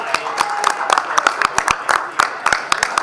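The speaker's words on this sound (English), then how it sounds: "big round of applause for Donna and everybody else from Home State." Scattered hand claps ring out in an irregular patter, a modest round of applause from a small group at a Groundhog Day breakfast in Woodstock, Illinois, fairly close and steady throughout.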